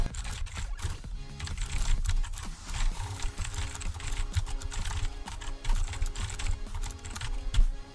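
Rapid, continuous typing on a computer keyboard, close and clear, with dense uneven key clicks and occasional heavier thumps from larger keys, and no talk.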